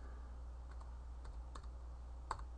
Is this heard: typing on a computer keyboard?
yes